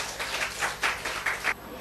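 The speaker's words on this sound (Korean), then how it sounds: "우리 하나님께 박수 올려드려요" A church congregation applauds together during a Sunday service, the clapping arriving in several uneven surges over a couple of seconds before cutting off abruptly.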